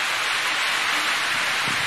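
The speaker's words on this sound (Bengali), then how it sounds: "আমাদের এদিকে তো বৃষ্টি হচ্ছে" Rain falling outdoors as a steady, dense, even hiss, heavy and close, with no voices or other sounds.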